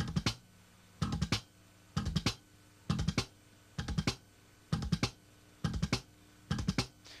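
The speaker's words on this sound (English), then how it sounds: "This is something that I call a machine gun triplet." Fast slapped bass guitar triplets, thumb, left-hand mute click and pluck, fired off in tight bursts roughly once a second in a steady repeating pattern, close and punchy with no voice over it.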